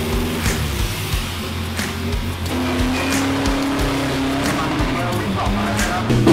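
A racing pickup truck at a Bangkok car meet roars through a burnout, its engine droning steadily with rising and falling pitch over crowd noise and scattered voices.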